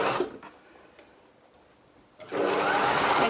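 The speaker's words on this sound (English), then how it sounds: "keeping my machine on the straight stitch, I'm just going to over sew by about 1/2 centimeter" A sewing machine running a straight stitch to over-sew a seam by about half a centimetre, whirring loudly in two bursts, a short one at the start and a sustained run at the end, with a quiet pause between.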